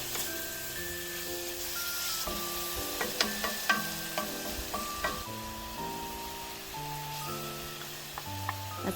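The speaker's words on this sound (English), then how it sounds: "We're now gonna saute the beef in olive oil and garlic until it's fully cooked." Beef sautés in olive oil and garlic with a soft, steady sizzle and scattered spatula clicks, beneath gentle background music.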